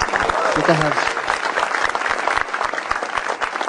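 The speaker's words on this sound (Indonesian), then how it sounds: "Tapi tepuk tangan dong buat Hari Perempuan." A stand-up comedy audience in Indonesia breaks into sustained, dense applause that fills the whole stretch, with a voice briefly heard over the clapping near the start.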